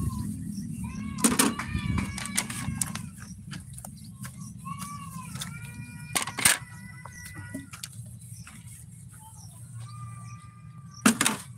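Several cat meows, some drawn out, scattered over a quiet background, with occasional clucks and sharp knocks nearby.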